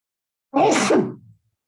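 A single short sneeze bursts out close and fairly loud, then quiet follows.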